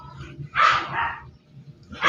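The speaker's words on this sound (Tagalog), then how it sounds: "Ayan, nag-iingay na naman yung aso." A dog barks nearby in a kitchen setting where vegetables are being chopped, giving two sharp, loud barks with a lower rumble beneath, while a person's voice is heard faintly.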